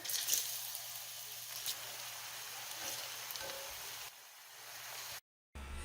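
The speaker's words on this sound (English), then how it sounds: "So we will double fry the plantains." Plantain slices shallow frying in hot oil, the first of two fries, give a steady, close sizzle that holds for most of the stretch before a brief cutout near the end.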